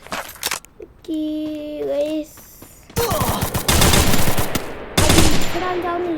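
Gunfire in the Free Fire mobile battle game: rapid automatic bursts and single shots, loud and close, broken by short tonal game effects between volleys.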